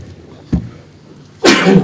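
At a county commission meeting, a person gives a small sharp intake, then after a pause lets out one loud, close, explosive sneeze.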